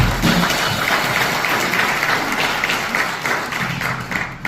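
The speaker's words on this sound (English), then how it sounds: "Okay, let's give Lee a round of applause." An audience applauds a WWII veteran at a Pearl Harbor Day gathering, with sustained, full clapping from a crowd that carries evenly throughout and includes a few thumps.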